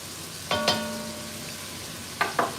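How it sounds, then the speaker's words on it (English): Ground beef fries in a pan, heard as a soft continuous sizzle broken by a few sharp clattering stirs or scrapes, two near the start and two near the end, with no talking. "I'm gonna brown up your ground beef. We're gonna start by frying this."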